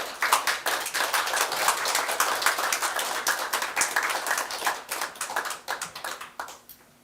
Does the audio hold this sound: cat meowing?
no